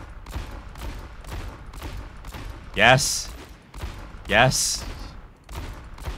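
Two loud revolver shots from McCree in Overwatch aim training, spaced about a second and a half apart, over steady background game sound and continuous talk.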